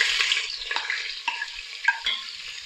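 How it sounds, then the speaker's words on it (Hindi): Onions fry in hot cooking oil, a steady bright sizzle with scraping stir strokes, close and alone without talk. "इस कुकिंग ऑयल को 1 से 2 मिनट गर्म होने के बाद इसमें हम प्याज ऐड करेंगे।"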